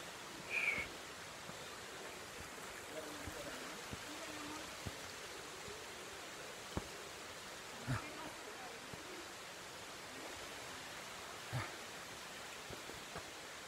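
Natural spring water at the springs of Santa María Ahuacatitlán flows in a soft, steady, faint hiss, with a few scattered clicks and bumps on top.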